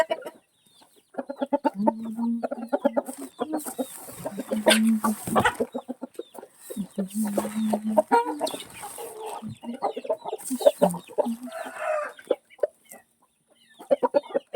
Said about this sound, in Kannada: ಎಷ್ಟುಂಟು ಕೋಳಿ ಕೋಳಿ